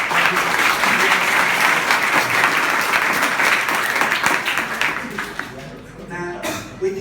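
An audience at an English-language event in Bali claps together in steady, loud applause that fades toward the end.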